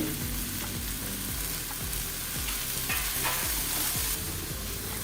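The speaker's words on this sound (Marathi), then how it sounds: "फक्त थोडीशी मऊ होईल इतपत परतून घ्यायची" Mixed vegetables with carrot sauté in a pan for a wheat-flour pancake breakfast. A loud, continuous sizzle runs throughout while a spatula scrapes and stirs in a steady rhythm close by. Nobody talks.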